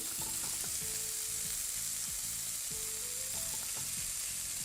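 Onion pieces sizzle steadily in a hot pan, a constant dense frying hiss with faint intermittent clicks and stirring knocks underneath, no voices.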